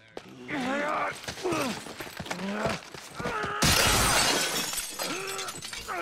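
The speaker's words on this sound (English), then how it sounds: "I don't like broken glass." Glass shatters loudly in The Last of Us, a sudden bright crash cutting in partway through after groaning voices and creaks, its shards ringing out and fading.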